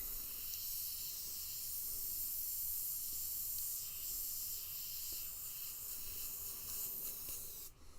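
An airbrush sprays paint in a steady, unbroken hiss of compressed air, faint and close, while neon colors are laid onto a Godzilla artwork; a brief rustle sounds near the end.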